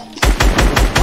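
Loud rapid bursts of automatic gunfire in a video game, about five sharp shots in quick rhythm, close and alone with no talk over them.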